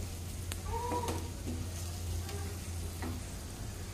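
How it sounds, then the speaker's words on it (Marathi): Spices sautéing in hot oil in a pan while chole is cooked, with a steady low sizzle and a few sharp scrapes of a stirring spoon against the pan. No one speaks. "थोडीशी परतून घ्यायची तेलामध्ये, मसाले आपले चांगले परतले पाहिजे."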